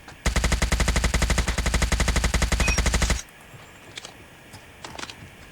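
An HBRa3 rifle fires a long, rapid, evenly paced automatic burst in a video game, loud and close for about three seconds before cutting off to quiet ambience with a few faint clicks.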